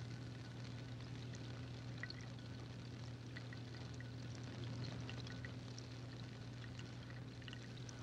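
Water fizzing and bubbling as gases form at the electrodes during electrolysis, a faint, continuous patter of tiny bubbles over a steady low electrical hum.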